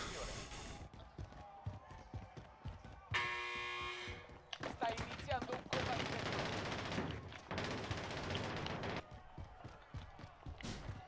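Rapid automatic gunfire in Call of Duty Warzone's Verdansk map, loud bursts of machine-gun fire alongside bright electronic game effects, with voices talking over the action.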